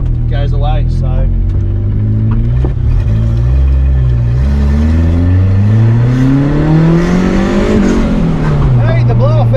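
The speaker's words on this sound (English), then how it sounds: "hey, the blow off valve went off." A turbocharged Honda D16 engine on a stock ECU revs hard in a loud, close drone, its pitch climbing and falling through several sweeps, with a turbo blow-off valve venting as the throttle lifts.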